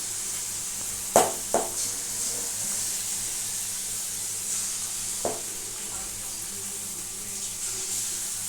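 Palm fruit batter fritters fry in hot oil in a kadai, giving a steady close hiss of sizzling with a few sharp taps and clicks of the ladle or spoon.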